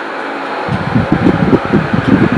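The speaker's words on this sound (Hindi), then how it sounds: "ये देखो गाइस पंखा चल रहा है मेरा" An electric fan runs steadily in a home kitchen, starting abruptly and continuing as a loud, close, fluttering whir with no one speaking.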